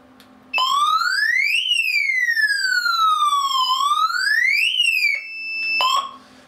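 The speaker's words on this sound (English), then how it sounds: "the keypad has an 85 decibel siren built into it" Wailing security alarm siren from a home wireless keypad, rising and falling in pitch twice, loud and close, then shifting to steady tones before cutting off.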